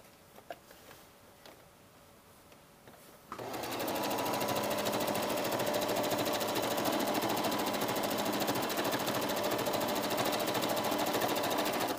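After a few quiet seconds of light handling noise, a sewing machine starts up close by and stitches the front darts of a jacket in one loud, steady, fast run until the end.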